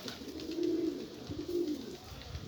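Pigeons cooing inside a coop, two low rolling coos in succession over a steady background hum, fairly close and clear with no talk.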